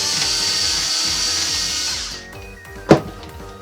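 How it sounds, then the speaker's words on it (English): A power screwdriver whirs steadily as it backs out graphics card bracket screws in an HP Omen 25 desktop PC, then winds down and stops, ending in a sharp click from the tool. "I just need to do the 2 screws that are there to hold it in"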